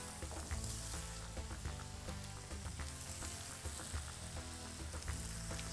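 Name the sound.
paprika and fresh tomatoes sizzling with onions in pan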